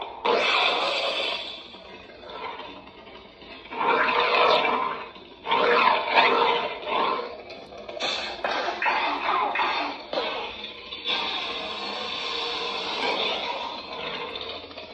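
Mercury lightsaber cycling through sound font effects, a loud, dense run of roaring, crackling hum and swinging bursts, close and continuous with abrupt changes between sounds.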